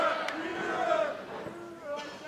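A rowdy crowd at the Weber Cup darts event shouts and cheers in a short, moderately loud burst, with individual yells rising over the general din.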